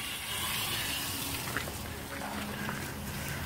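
Water drains from the cracked-open drain valve on a concrete truck in winter, a steady rushing hiss that stays loud and continuous throughout.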